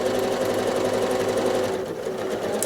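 A sewing machine doing free motion quilting hums at a steady, fast, even buzz, close and loud, dipping slightly in speed near the end.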